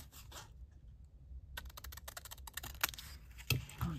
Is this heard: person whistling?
no